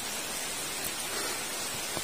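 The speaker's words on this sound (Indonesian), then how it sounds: "Sesampai di desa ini malah hujan ya" Steady rain falling in a remote village in Bajangan, Semarang, Central Java, a dense even hiss of drops on surfaces close by, continuous and unbroken with no voices.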